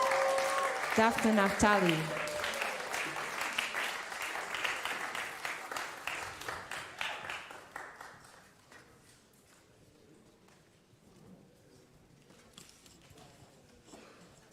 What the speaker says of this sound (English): can you give one more round of applause for Gwen Laster and